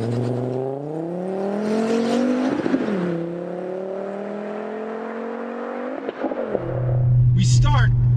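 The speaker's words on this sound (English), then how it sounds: "So we're gonna go for a drive and try to find out." A Volvo V70R station wagon accelerates through the gears, engine note rising steadily with distinct shift breaks, then settling into a lower steady drone, heard from inside the car with brief speech.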